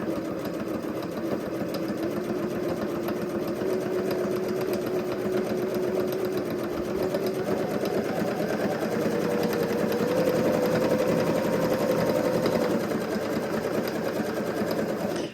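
A sewing machine runs steadily while stitching around the edge of an appliqué shape, a continuous close mechanical whir with a faint rise in pace partway through.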